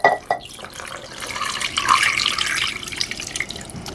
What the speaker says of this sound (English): Then we're going to add 4 cups of water.